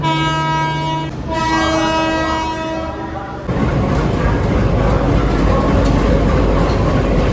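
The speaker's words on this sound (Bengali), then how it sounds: "আমাদের ট্রেন সরাইঘাট এক্সপ্রেস হচ্ছে দিয়ে দিয়েছে। আমরা ট্রেনে বসেও পড়েছি ফ্রেশ হয়ে।" Saraighat Express train, a long steady horn blast up close that breaks off, followed by a loud rushing rumble of rail cars.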